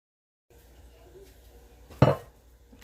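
A Dutch oven pot handled as bread dough is placed inside, with quiet shuffling followed by one sharp, close metallic clank of the lid or pot, then faint handling noise.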